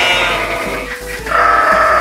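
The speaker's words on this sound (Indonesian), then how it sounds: "Goat, kambing." Loud, close goat bleating fills the whole stretch as one long quavering call followed by a rising second cry, with no voices present.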